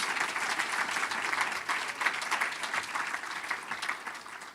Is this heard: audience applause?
yes